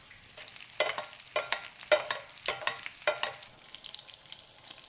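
Steak sizzles in a hot pan while a spoon bastes it, giving a series of about eight rhythmic, close scraping splashes over the constant frying hiss.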